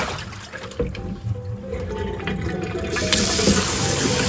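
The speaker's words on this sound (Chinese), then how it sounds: "把水倒掉" Water pours and gushes into a sink as soaking water is tipped out while washing broccoli, a loud continuous rush that swells stronger toward the end.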